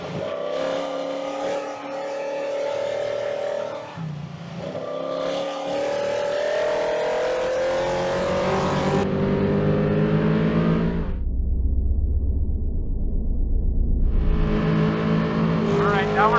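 Trophy truck racing offroad at speed, its engine roaring loud and close from inside the cab as revs climb and gears shift, then dropping to a deep rumbling drone before building again, with no talking.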